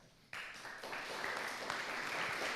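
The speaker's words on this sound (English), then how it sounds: "A big round of applause." An audience for panelists at a Venice 2023 city discussion on displacement breaks into applause, starting abruptly and then holding as a steady, fairly even mass of clapping from many hands, with no speech over it.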